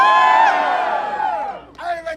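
A live crowd at a fire-juggling show cheers, whoops and screams loudly on cue, a sustained roar of voices that fades and then flares again briefly.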